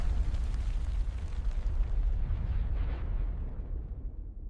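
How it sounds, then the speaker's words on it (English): A meteor strikes what is now the Yucatan Peninsula in the Late Cretaceous, producing a loud, sustained explosive roar with deep rumbling that continues throughout and slowly loses its upper hiss toward the end. "A devastating explosion lit up the horizon."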